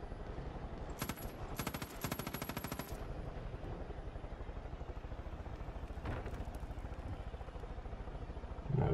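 Bursts of automatic gunfire aimed at an enemy in Far Cry 5, two quick rattling volleys early on, then a lone later shot, all fairly faint over steady game ambience.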